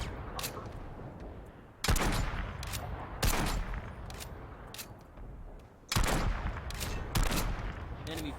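Bursts of rapid automatic gunfire in PlanetSide 2 come in several loud volleys separated by short pauses, with quieter shots and game noise filling the gaps.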